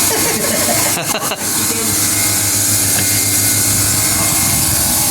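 A Toshiba VRF air conditioner compressor runs at a hotel during a repair, a loud steady droning hum with a low tonal whine throughout and a brief rattle near the start, heard up close.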